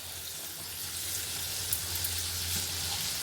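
Tomatoes frying in a pan for a tomato-coriander chutney, giving a steady, close sizzle with faint crackles and a low hum underneath throughout.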